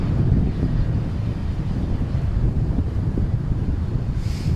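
Strong outflow wind gusts at about 45 mph batter the microphone at an airport. The roar is loud, continuous and buffeting, with no voices.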